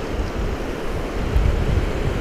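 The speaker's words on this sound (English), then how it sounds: "It started to get really windy as I moved upstream" Strong wind roars steadily against the microphone beside the Firehole River in Yellowstone, a heavy continuous rush with a faint watery wash beneath it.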